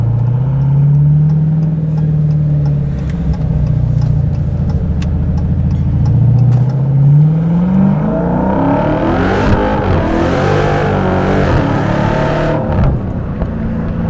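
A Dodge Challenger Hellcat Jailbreak roars loud and close as it is floored from highway speed, the engine note climbing hard through a gear change and rising again with a harsh, rasping wail.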